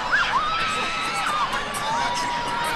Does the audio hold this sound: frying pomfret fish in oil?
no